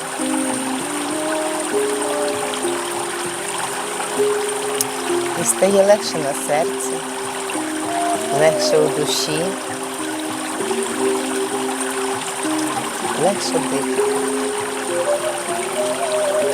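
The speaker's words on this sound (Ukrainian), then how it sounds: "знову вода хлюпоче, омиває ваші стопи." Gently splashing, trickling water washing over feet plays as a soft, steady meditation background beneath a calm voice speaking throughout.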